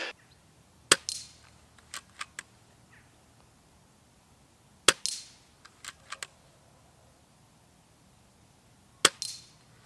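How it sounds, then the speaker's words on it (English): Four sharp, quiet shots from a Weihrauch HW 100 X .22 calibre air rifle with a sound moderator, spaced a few seconds apart, each followed by small mechanical clicks and rattles of the action. "you get a lovely quiet report from this gun"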